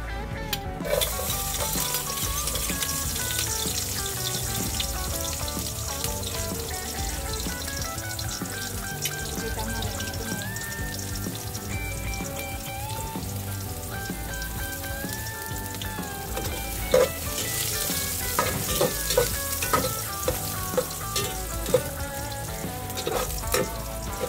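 Garlic frying in a pan for Filipino dinengdeng, a steady broad sizzle running throughout at moderate level, with brief clinks and stirring scrapes near the end.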